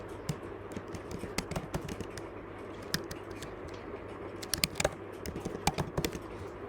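Rapid, uneven keystrokes on a computer keyboard, sharp clicks clustering into bursts with a few louder taps near the end, close and fairly quiet over a low steady hum.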